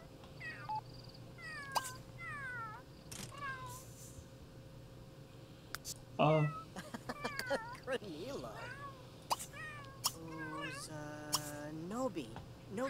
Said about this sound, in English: Come on, kitty. Go out there and meet the other kitty.